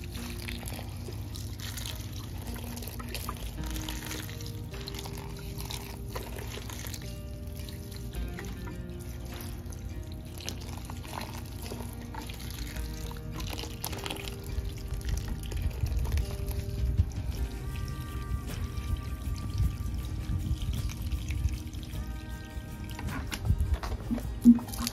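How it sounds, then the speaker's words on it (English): Water poured onto potted plants in summer garden containers, soft irregular dripping and trickling into soil that grows slightly louder toward the end, with no talk. "I'm just gonna water these in now."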